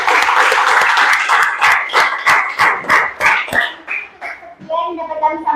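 A classroom audience applauds a student group after its presentation, a steady burst of loud, close clapping that fades toward the end.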